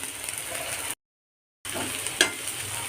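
Drumsticks and drumstick leaves stir-fried with grated coconut being stirred in a pan, giving a steady scraping and soft sizzle, cut by a brief gap of silence before the stirring resumes with one sharper knock.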